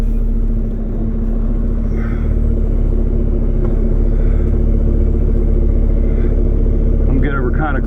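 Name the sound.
truck pulling forward with parking brake released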